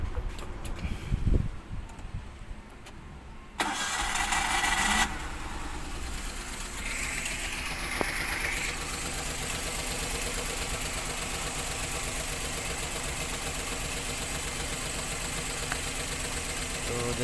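Maruti Alto 800 engine idles with a misfire, a close steady mechanical rumble with uneven knocking pulses after a few sharp clatters at the start.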